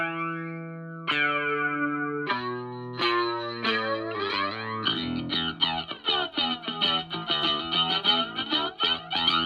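Waves Kaleidoscopes plugin filter sweeping over a song, starting as thin filtered chords that step up in bursts before the full mix bursts in, dense and heavily chorused with shimmering, echoing effects and no talking.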